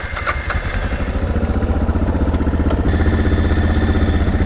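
A big single-cylinder dual-sport motorcycle, a Honda XR650L or Suzuki DR650, idles up close with a loud, steady, rhythmic thumping and some mechanical clatter throughout.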